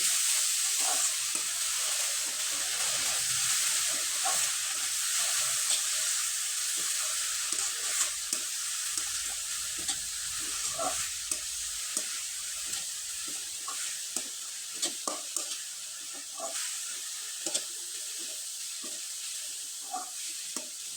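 Jaggery and grated coconut filling being stirred in a wok, a soft steady sizzle with frequent spatula scrapes and taps in an irregular rhythm, close by and without speech.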